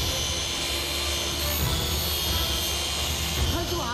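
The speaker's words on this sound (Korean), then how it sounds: "광택기의 무게와 힘이 언뜻 보기에도 만만치 않아 보입니다" Heavy car polishing machine buffing a vehicle's paint during a detailing job, giving a steady, loud, continuous whir with a faint underlying rumble that holds level throughout, close by, with no voices.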